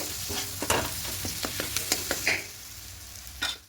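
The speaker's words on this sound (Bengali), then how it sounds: "একটু মশলাটা দু তিন মিনিট কষিয়ে নেব তাহলে আদা রসুনে কাঁচা গন্ধটা চলে যাবে" Ginger-garlic spice paste stir-fried in a pan for lotte (Bombay duck) fish jhuri, with steady close sizzling and a run of sharp spatula scrapes and clicks against the pan, fading near the end.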